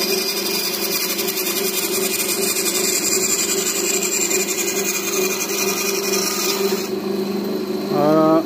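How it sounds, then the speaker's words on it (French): Fine-bladed hand saw cutting a wooden vise part along a marked line, a steady close rasping stroke that runs evenly and loudly, then a brief voice near the end. "vous avez juste à faire ça, à suivre le trait, tranquille, la lame est fine"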